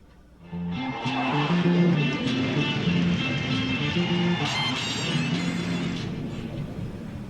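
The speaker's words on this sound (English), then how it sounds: "The first thing we want to learn is the intro riff," Electric bass plays the intro riff in the James Jamerson style, a busy run of low notes over a backing track with steady, moderately loud rhythm.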